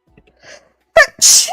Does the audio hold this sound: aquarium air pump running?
no